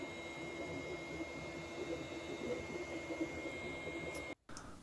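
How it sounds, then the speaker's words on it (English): A steady mechanical hum with faint whirring tones from a running 3D printer, continuous and even, briefly cutting out near the end. "the old 3D printer was dusted off and set to work."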